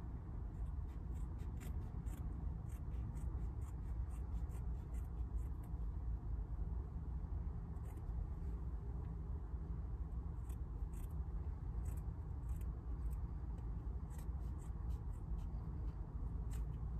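Scissors slice through cushion fabric for a van sofa seat, giving a steady stream of soft, close crisp snips and rustling over a constant low background hum.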